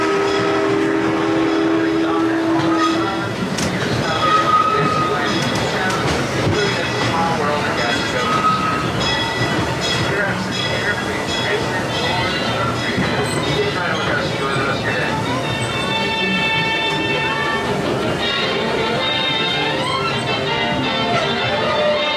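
A Disneyland Railroad train rumbles steadily through a station with clattering, screeching wheels and a brief horn, loud and continuous, while a voice makes announcements over it.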